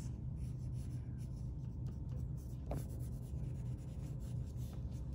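Pencil scratching and rubbing across paper while shading an eye drawing, a faint, steady scratchy texture with no talk.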